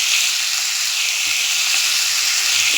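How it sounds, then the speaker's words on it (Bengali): Fish frying in a pan, a loud, close, steady hiss of hot oil sizzling continuously, with faint low background sounds beneath and no talk. "মাছটা ভাজা বসিয়ে দিয়েছি।"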